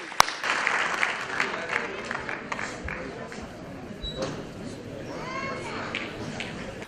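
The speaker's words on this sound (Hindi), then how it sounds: "तो जोरदार तालियों से बुलाइए आ रही है आदरणीय लता हया" Audience applause greets poet Lata Haya as she comes on stage at a Hindi kavi sammelan, a dense crowd clapping that swells early and carries on steadily with scattered crowd noise mixed in.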